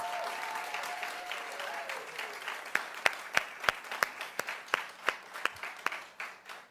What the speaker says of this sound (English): Let's give Taggart a big round of applause.